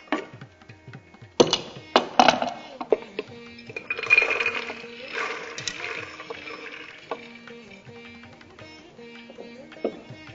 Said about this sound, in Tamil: இதுக்கு தேவையான அளவு தண்ணி விட்டுக்கலாம்.